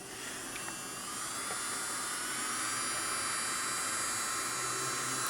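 A Jiasheng 20,000 RPM electric nail drill running at full speed whines steadily, a thin continuous high-pitched buzz with faint hum underneath, no talking.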